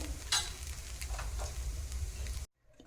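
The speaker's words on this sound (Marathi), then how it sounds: "आपण टमाटर दुसरी बाजू शेकून घेऊया" Masala appe made from idli batter frying on their second side in an appe pan, with a close continuous sizzle and a few light stirring scrapes before the sound cuts off abruptly.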